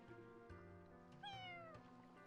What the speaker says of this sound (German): Oh, süßes Kätzchen,